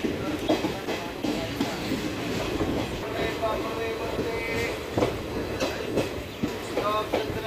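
A passenger train departs Hindumalkot station on the Shri Ganganagar–Bathinda line, its wheels clattering steadily over rail joints with rumbling carriages and faint squeals throughout, while voices are heard faintly beneath.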